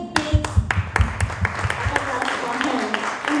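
An audience applauds at an annual homecoming dinner banquet, a burst of scattered, sharp claps that thins out over a few seconds with a voice speaking over it.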